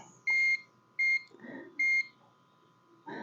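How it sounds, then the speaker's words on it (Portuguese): Multimeter continuity beeps while probing shorted components on an Android phone circuit board, three sharp, loud, evenly spaced electronic tones separated by brief pauses, with a faint steady hum underneath. "todos esses componentes estão bipando curto"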